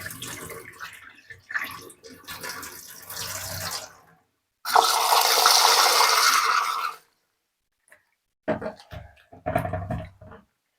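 Water runs and splashes in a sink as soybeans are washed, with a loud burst of pouring in the middle and intermittent sloshing and rinsing around it.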